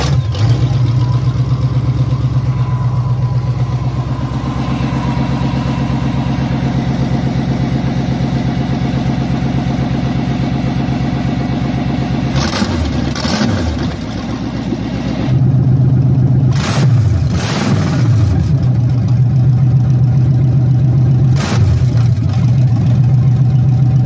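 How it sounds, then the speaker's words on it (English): A 1995 Chevy G20 van with newly installed headers cold-starts and idles with a loud, rough, steady rumble, then gets revved in several sharp bursts before settling back, close by and with no speech. "So I'm going to show you guys what it sounds like now. This is a cold start."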